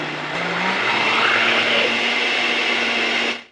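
A lidless blender running on high while blending a smoothie gives a loud, steady whirring roar that holds for about three seconds, then cuts off sharply, with a slight pitch shift near the start.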